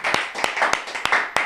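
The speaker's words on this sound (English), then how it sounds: "How about a big round of applause here, live at Paco's Place, Minerva Vier." Live audience at a podcast recording gives brief applause, with a few sharp, evenly spaced hand claps standing out over a softer clapping bed.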